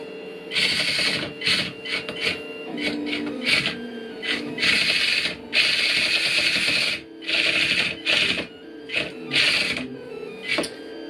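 The planetary gearbox on a small antweight walker robot whirs in repeated bursts during a push test, with high mechanical buzzing that starts and stops in quick stretches of uneven length, loud and close.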